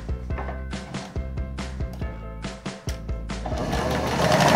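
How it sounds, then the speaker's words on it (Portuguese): A sewing machine stitches cloth for a kitchen towel's triangular trim, its needle pounding out a quick, steady mechanical rhythm up close before speeding into a faster continuous whir. "Vou virar, vou costurar a outra parte."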